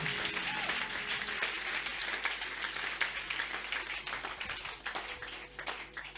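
A church congregation at a Wednesday teaching service applauds together, producing dense, steady clapping that fills the whole stretch and fades slightly toward the end.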